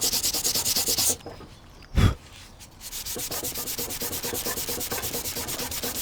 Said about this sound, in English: if you keep sanding until you get scratches all the way up to the edge